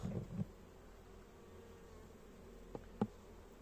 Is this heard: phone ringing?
no